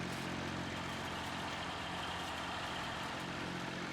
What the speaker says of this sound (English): Completely changed the pitch of the engine sound.